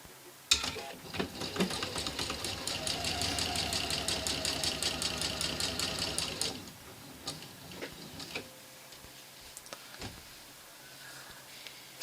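A domestic sewing machine stitching fabric squares together for a quilt top, running in a fast, even burst of rapid needle clatter for about six seconds, then stopping, followed by scattered clicks and handling noises.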